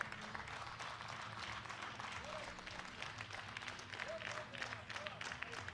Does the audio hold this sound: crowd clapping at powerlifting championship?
yes